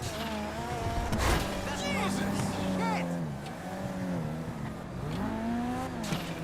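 Armored Kuruma car driven in GTA 5 Online, its engine droning and shifting pitch steadily through the clip, with someone talking over it.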